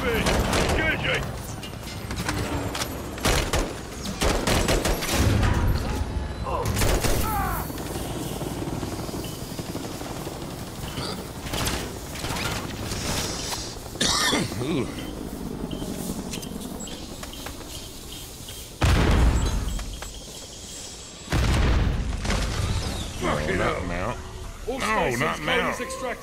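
Bursts of gunfire aimed at an enemy helicopter in the Modern Warfare III campaign on Veteran difficulty, sharp volleys over a loud, steady rotor drone, with voices and radio chatter throughout.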